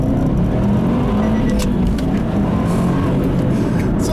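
A 2013 Subaru WRX STI 5-door under way, its engine and road noise forming a loud, steady, close rumble that holds constant throughout with no talking.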